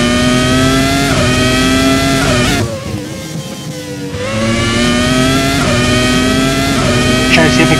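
A Ferrari F2002 Formula One car's V10 screams at high revs in Assetto Corsa at Spa-Francorchamps. The loud, steady, harmonic wail dips briefly as the throttle lifts, then climbs back to full throttle.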